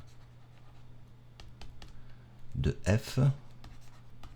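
Pen strokes scratch across a surface as a math formula is written by hand during a French lesson on finding antiderivatives, with soft intermittent marks continuing while someone speaks over them.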